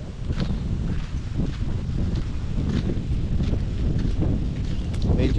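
Steady, loud wind buffets the microphone outdoors on an open land plot in Arayat, Pampanga, a continuous rushing roar with gusty rustles throughout and no speech.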